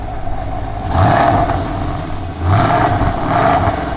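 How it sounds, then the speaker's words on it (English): A cammed Camaro engine revs up twice with a muffled, subdued tone through a closed Varex X-Force active exhaust, rising then settling back to a steady idle, loud and close. "we're gonna begin with a closed exhaust rev up"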